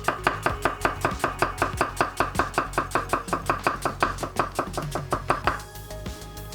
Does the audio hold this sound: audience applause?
no